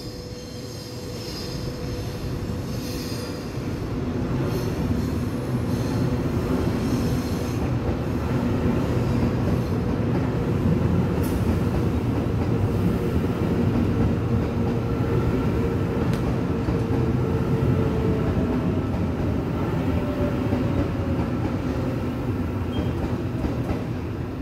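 A four-car EMU500 electric multiple unit commuter train passes Su'ao New Station, a loud, steady roar with wheel squeal and rail rumble held throughout, close by and without talk.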